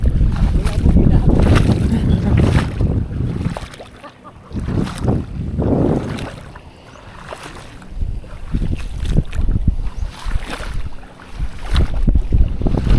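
Strong wind blowing over Caliraya Lake during a fishing trip, heavy roaring gusts battering the microphone in waves that surge, dip and return, with muffled voices partly under it.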